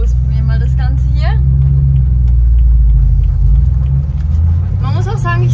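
A BMW M3 E92 with its V8 engine pulls away, a steady deep rumble that stays loud and close throughout, heard from inside the car with someone talking over it in German.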